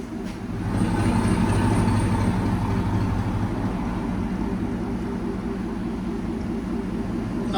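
A 2019 Cadillac Escalade with 6.2L V8 and Corsa sport cat-back exhaust idling, a steady low rumble that stays even and fairly close throughout, with no voices.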